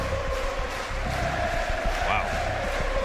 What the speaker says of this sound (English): Can I get one of those Portugal chants, please?